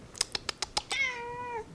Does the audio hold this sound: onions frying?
no